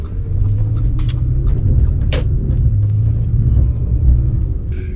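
A V10 Audi S6 cruising around the block, its engine a steady low rumble with road noise beneath, close and continuous throughout with no talking.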